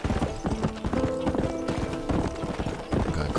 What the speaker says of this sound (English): I stole a horse.